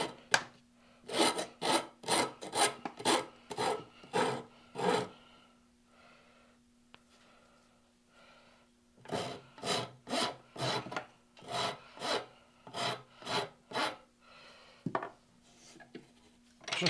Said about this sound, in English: Let's go with the rasp first.